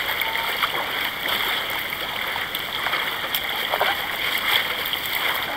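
Water splashing and sloshing steadily around a paddled boat heading out on choppy water, a continuous close wash with small irregular slaps throughout.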